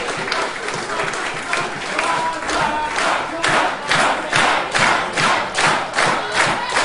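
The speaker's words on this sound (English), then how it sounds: "Listen to this crowd, a sellout crowd." A sellout crowd roars and cheers through a professional wrestling title match at an indoor anniversary show, loud, dense and continuous, with rhythmic surges and thumps that sound like chanting or stomping.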